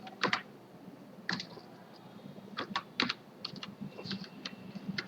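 Someone types on a computer keyboard nearby, short bursts of quiet key clicks with brief pauses, entering text into an online form.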